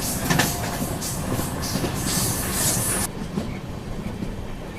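An Indian passenger train running at speed on the tracks between Kanpur and Delhi, with a steady rolling rumble and clattering wheels throughout, the sound dropping somewhat after a few seconds.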